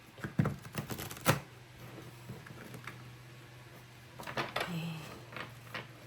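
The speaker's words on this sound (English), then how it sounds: "Why can I not shuffle it?" Tarot cards being shuffled by hand: quiet riffling bursts and soft card flutters, louder near the start and again toward the end, with faint clicks in between.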